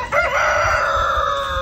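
A rooster crows loudly and close by in one long, drawn-out cock-a-doodle-doo that holds its pitch almost to the end, with nothing else heard.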